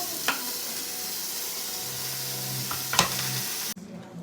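Ground beef and chopped bacon fry in a pot with a steady hiss of sizzling, broken by a few sharp stirring scrapes, before the sound cuts off abruptly near the end.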